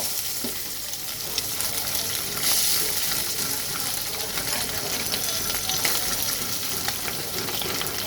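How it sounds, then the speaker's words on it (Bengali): Small fish fry in hot oil in a home kitchen, a continuous close sizzle and crackle with brief spatters, steady throughout. "এখন আমি মাছটা হালকা ভাজবো"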